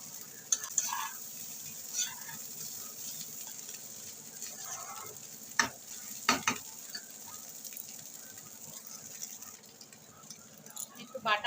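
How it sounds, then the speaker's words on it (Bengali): Egg bhujia and rice pulao being stirred in a sizzling pan. A low frying hiss runs throughout, broken by scattered spatula clinks and scrapes, with faint voices in the background. "এবার নাড়িয়ে নেবো সমস্ত কিছু।"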